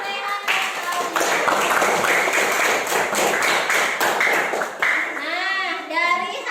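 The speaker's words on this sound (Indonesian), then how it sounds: "Beri tepuk tangan untuk Rehan dan Claudia." A classroom of children claps in steady, close applause for two pupils. The clapping lasts about five seconds, with children's voices chattering over the end.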